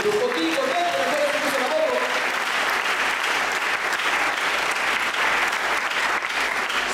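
A church congregation at a French-language sermon applauds the Lord Jesus, with steady, loud clapping from many hands throughout, a few voices cheering underneath and a brief sung or called tone near the start.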